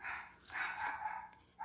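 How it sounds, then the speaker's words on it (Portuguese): Dog barking somewhere nearby, a few short, muffled barks heard at a distance with nobody talking. "Tem um cachorro latindo aqui, gente."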